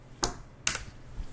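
Two or three quick, faint keystrokes on a computer keyboard as an IP address is entered, close and isolated against a quiet room.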